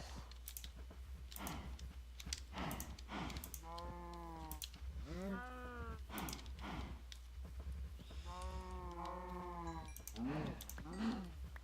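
Several cows moo in a row in modded Minecraft, drawn-out lowing calls over a background of clicking and tapping, like keys or a mouse.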